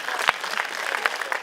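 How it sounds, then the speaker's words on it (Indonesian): An audience at an evening talk show claps in a short dense burst, a few sharp hand claps standing out near the front of the crowd. "Tepuk tangan buat kita semua"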